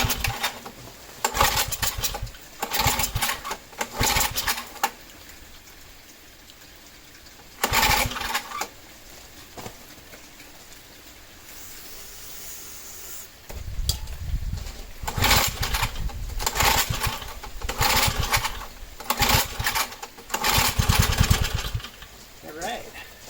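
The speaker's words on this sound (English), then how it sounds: "Let's try starting it with that little bit of carb cleaner I put in there." Someone repeatedly pull-starts a Sears generator engine primed with carb cleaner. Bursts of cranking and sputtering come between quieter gaps, close and fairly loud, with some firing toward the end.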